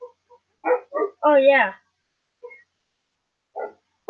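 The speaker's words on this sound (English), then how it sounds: "The dogs are barking." Dogs bark at a home in a few short bursts, including a drawn-out howling bark, with brief gaps of silence between them and a voice speaking briefly over a phone call.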